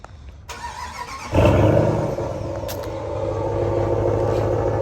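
A 2022 RAM 1500 Rebel GT pickup with stock exhaust cranks and fires up, a brief starter whir followed by a loud catch and a steady, deep idle rumble close by.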